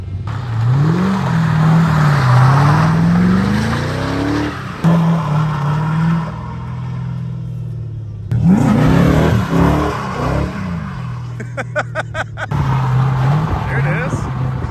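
A car drifts and does donuts on a slick road, engine revving in rising and falling sweeps with tire noise across several passes, fairly loud and close, with people talking over it.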